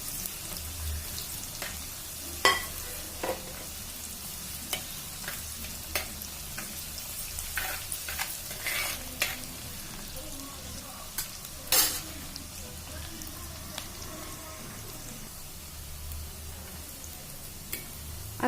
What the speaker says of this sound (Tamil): வெந்தயம் நல்லா ஃப்ரை ஆயிடுச்சு.